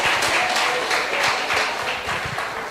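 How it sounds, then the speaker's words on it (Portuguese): A church congregation claps together, a sustained wash of applause with some distinct hand claps standing out, loud and continuous. "Aplauda ao Senhor."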